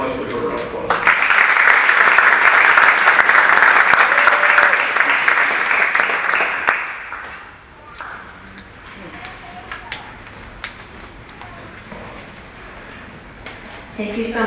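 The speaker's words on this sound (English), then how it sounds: "let's give her a round of applause" A crowd applauds at a high school athletic hall of fame ceremony. Loud, full clapping swells for several seconds, then fades into quieter room noise with scattered claps and small sounds.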